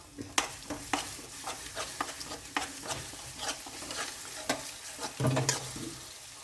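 Lemon pickle mixture frying in sesame oil is stirred in a pan, a soft steady sizzle broken by repeated scraping strokes of a spoon against metal, close and clear.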